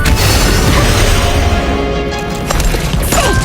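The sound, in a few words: bomb explosion in video game Honkai Impact 3rd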